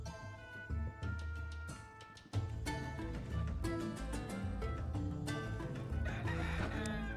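A rooster in the Necesse video game clucks and crows repeatedly over layered game music and effects, fairly loud and close, with no talking.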